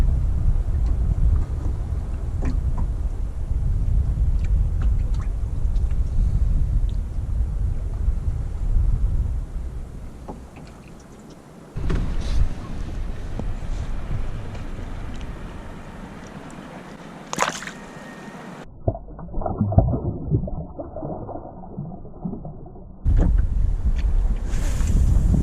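Wind at sea on a small fishing boat off Falmouth, Cornwall, a loud buffeting roar of gusts on the microphone with water sloshing, dropping briefly mid-way before surging back.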